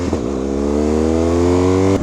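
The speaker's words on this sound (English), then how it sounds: "That is obnoxiously loud. That exhaust is just awesome." A loud motorcycle exhaust revs up close, a steady droning engine note holding strong for about two seconds before cutting off abruptly.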